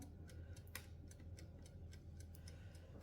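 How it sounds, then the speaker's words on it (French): A clock ticks steadily in a home kitchen during mini pizza preparation, each tick sharp and evenly spaced but faint, set over a low, constant background hum with no voices. "Désolé du bruit que vous entendez, le tic-tac, tic-tac."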